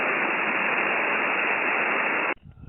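An amateur radio receiver tuned to a low-power QRP signal gives a loud, flat hiss of band-limited static that holds steady for over two seconds, then cuts off abruptly into faint scattered noise.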